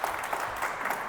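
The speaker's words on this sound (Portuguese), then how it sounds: "uma salva de palmas para a nossa diva do Python" An audience at a Python open-source conference talk in Brazil gives a brief burst of steady clapping, fairly faint and distant.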